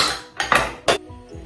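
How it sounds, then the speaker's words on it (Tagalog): An egg being added to a mixing bowl of banana bread batter, with a few sharp knocks and clinks against the bowl, then quieter soft handling sounds. "Tapos ilalagay natin itong ating itlog."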